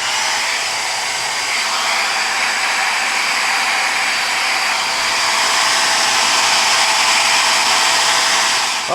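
Heat gun or hair dryer warming the adhesive tape on a custom emblem for a new Toyota RAV4, a loud, continuous blowing whoosh held steady for the whole stretch, heard close and alone.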